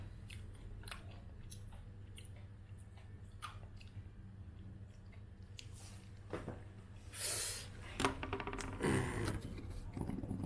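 Vietnamese snacks are chewed and crunched up close in irregular bites and crackles, with louder rustling and squishing bursts later on, and no talking.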